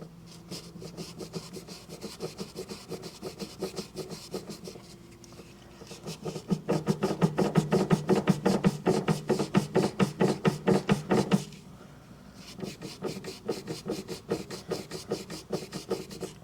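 A Scotch-Brite pad scrubs rust off the gearbox shaft of a Walker Mower 25i with a 48-inch GHS deck, giving close, rhythmic rapid rasping strokes that grow louder and denser midway before easing back.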